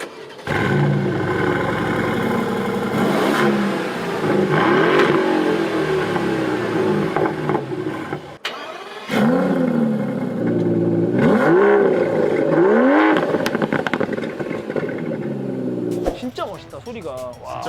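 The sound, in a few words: V12 engine revving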